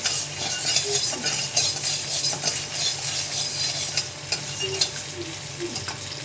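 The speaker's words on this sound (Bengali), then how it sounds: "মুসুর ডালটাকেও আমি লাল করে ভাজবো" Red lentils (masoor dal) frying in a wok, a constant close sizzle broken by repeated scraping stirs and light metallic clinks of the spatula, with no talking.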